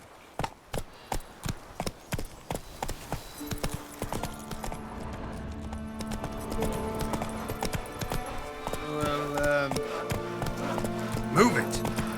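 Roach the horse from The Witcher 3 galloping, rapid rhythmic clip-clop hoofbeats close by, later joined by game music and a voice speaking.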